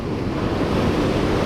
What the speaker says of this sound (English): the crashing waves have really died down in the last 5 or 10 minutes